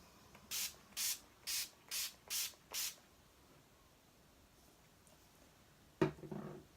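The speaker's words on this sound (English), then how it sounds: "But first I'm going to spray." Six quick, evenly spaced hissing spritzes from a makeup setting spray bottle close by, then quiet, followed by a brief rustle or knock.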